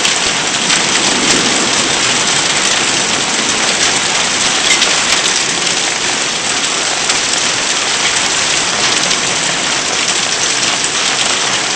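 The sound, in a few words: heavy rain with pea to dime sized hail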